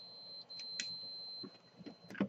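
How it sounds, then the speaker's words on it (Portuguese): A continuous thin, high electronic tone from a multimeter on continuity test holds steady under faint clicks and handling noises, ending with louder rustling. "O teste de continuidade você joga no chaveamento da escala de bip, de buzina."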